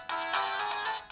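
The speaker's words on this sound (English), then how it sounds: "Every kid wants a special ringtone." A mobile phone ringtone plays a short, bright electronic melody of pulsing tones, sounding clearly and alone at moderate volume.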